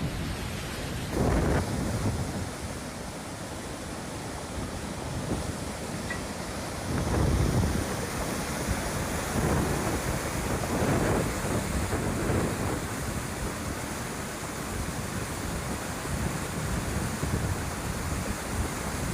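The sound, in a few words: flood water rushing down a valley in Ras Al Khaimah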